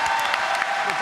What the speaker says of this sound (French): Applaudissements pour Tristan, s'il vous plaît